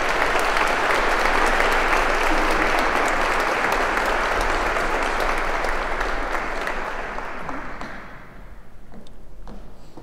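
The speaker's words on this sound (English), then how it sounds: "We can clap for her." A school graduation audience applauds a graduating senior with loud, sustained clapping from a large crowd, which tapers off and thins out toward the end.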